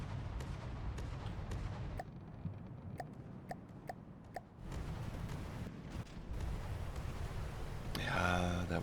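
Cram cannons fire in the naval combat game From the Depths, a string of sharp, crisp shots spaced about a second apart over a steady rumbling battle din.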